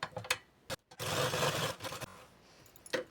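A sewing machine runs baste stitches through blouse fabric, a steady whirring burst of roughly a second between short clicks and pauses, close up and with no voices.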